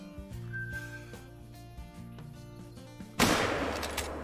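A single loud rifle shot cracks out at a gemsbok in theHunter: Call of the Wild, bursting suddenly near the end after a stretch of quiet game ambience and a faint whistling tone.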